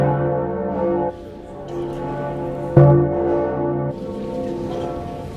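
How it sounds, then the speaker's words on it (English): Church bells ring out across Vienna, a sustained, resonant peal of layered tolling with a fresh loud strike near the middle, heard alone without any voices. "Bells rang out in Vienna and all across Central Europe, summoning the faithful to pray for divine mercy."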